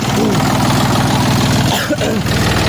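A Jinma 264RE mini tractor engine idles steadily with a low, even chugging throughout, close by and fairly loud, with a voice talking over it.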